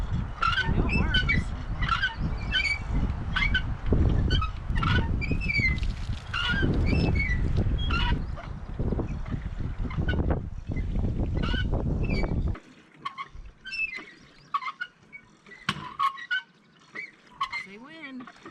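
A hand water pump at a motorcycle campsite works in quick, repeated strokes, each squeaking and honking in a steady rhythm for a long stretch before the strokes slow and thin out.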